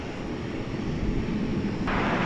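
A UPS Boeing 767 taxiing at DFW Airport gives a steady, broad jet-engine roar heard from a distance, continuous and even throughout, with no speech.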